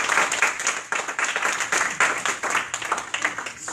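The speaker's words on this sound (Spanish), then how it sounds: "¿O cuánto dan ese aplauso?" Church congregation applauding during a sermon, a dense, steady patter of many hands clapping together for a few seconds, fairly close and continuous.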